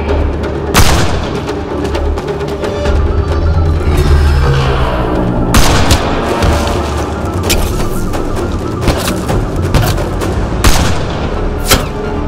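Gunfire in Mass Effect: Andromeda on Kadara, with sharp, loud isolated shots like sniper cracks standing out over continuous combat noise and rumbling booms, several distinct reports spread across the fight.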